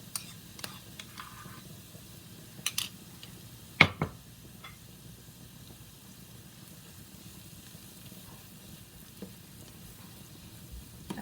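Mashed avocado sizzling in seasoned oil in a pan: a continuous low frying hiss with occasional stirring scrapes and a brief louder clatter, close and fairly quiet.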